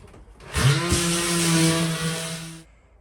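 Power sander working on wooden galley drawers for a narrowboat: a loud, steady whirring grind that starts abruptly, holds for about two seconds, then cuts off, with no talking.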